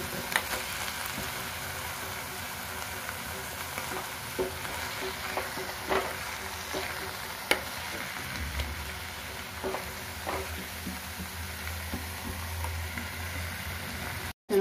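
Mint and cucumber filling cooking in a pan for atukula bonda, a soft steady sizzle and frying hiss with occasional faint stirring scrapes, no voices.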